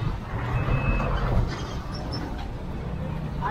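Garbage truck reversing on a street, its backup alarm sounding as a short high tonal beep over the steady rumble of the idling engine and general outdoor street noise.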